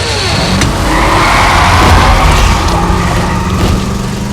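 A badly damaged car races away in an audio drama scene, engine roaring loud and close throughout with tire skids and squeals layered over the drive, no voices heard.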